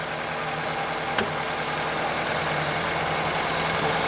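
A Honda CR-V engine with its intake removed idles at close range, a low mechanical hum with a faint airy intake hiss over it and one brief click near the start.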